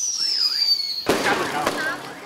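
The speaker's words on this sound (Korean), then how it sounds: "느닷없이 폭죽이 울려 퍼집니다." A sudden loud burst of firecrackers crackles and pops after a high whistling tone in a village by the Yalu River, sharp bangs echoing close by.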